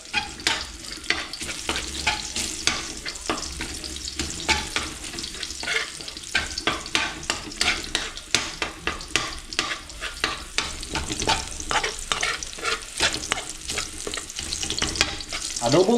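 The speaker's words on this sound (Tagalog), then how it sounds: "Hininaan ko lamang po itong ating apoy para hindi po kaagad masunog itong ating bawang" Garlic and other ingredients for squid adobo fry over lowered heat in a pan, a steady sizzle cut by constant rapid scraping and stirring strokes that keep a busy, uneven rhythm throughout.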